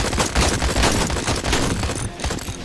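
Heavy, continuous gunfire in a VR military base combat game, dense overlapping bursts of automatic fire and shots, loud and close throughout with no pause.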